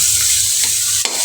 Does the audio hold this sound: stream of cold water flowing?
no